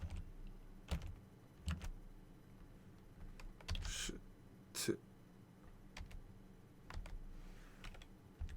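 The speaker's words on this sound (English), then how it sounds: "Here, I'll type it in the chat." Quiet clicking of a computer keyboard as someone types a chat message, with irregular bursts of keystrokes separated by short pauses.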